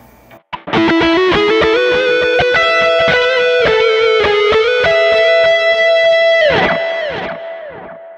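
A distorted electric guitar through a JOYO Gem Box III with plate reverb plays a sustained melodic line, then a final chord rings out into a smooth, lingering reverb tail.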